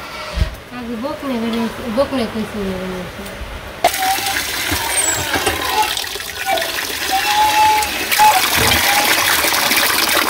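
Rice for Eid pulao is rinsed in water in a village kitchen: a voice talks for a few seconds, then close splashing and sloshing continues with uneven surges as the grains are swished by hand.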